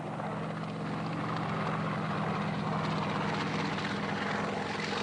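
A military helicopter in a Vietnam War setting flies overhead, its rotor thudding in a rapid continuous chop beneath a broad engine roar, steady and fairly close throughout.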